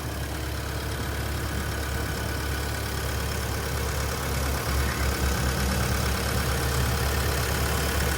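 A Caterpillar 312F GC excavator's diesel engine idles steadily and close by, a constant low rumble with a faint rhythmic knock, running smoothly with no other sounds.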